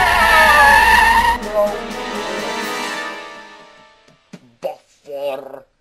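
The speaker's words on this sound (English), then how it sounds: "His driver applied the brakes hard, but his tyres couldn't grip the snowy roads." A car brakes hard and its tyres skid on a snowy road: a loud, long screech that fades away over a few seconds, followed by short bursts of voice.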